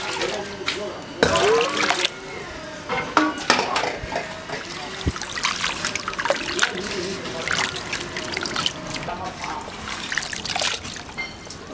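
Blanched wood ear mushrooms being washed by hand in water, with continual sloshing, swirling and dripping sounds and a few knocks against a bowl.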